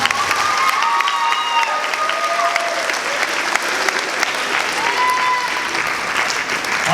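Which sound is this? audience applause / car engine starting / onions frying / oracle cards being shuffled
audience applause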